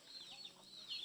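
Chickens cluck softly on a farm, a short burst of bird calls heard at a distance without talk.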